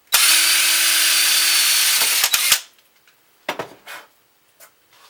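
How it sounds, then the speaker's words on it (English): A power drill whirs loudly and steadily for about two seconds, drilling a hole in a Paragon kiln, then stops; a few clicks and light handling taps follow in the quiet. "I'm using it to steady it to drill the second hole"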